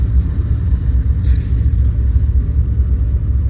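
A BNSF intermodal freight train passing westbound, a continuous deep rumble with steady low mechanical rolling noise, fairly loud and unbroken.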